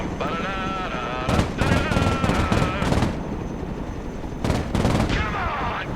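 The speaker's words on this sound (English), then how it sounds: "But I have never fired a machine gun before." Machine-gun bursts ring out in the Broken Arrow video game, several short rapid volleys loud over a busy battlefield with radio-style voices and other gunfire.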